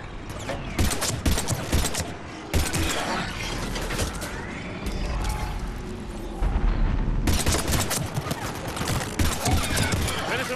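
Gunfire in the video game Mass Effect 3 during a combat demo, with dense rapid bursts of shots and booms that run almost through the whole stretch, mixed with battle effects and voices.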